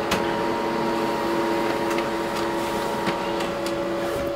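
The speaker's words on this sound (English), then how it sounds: "So now we got the printing" An HP Color LaserJet Pro MFP M277dw printer printing a photo, giving a steady mechanical whir with a sustained tone and faint intermittent clicks, close and moderately quiet, with no talking.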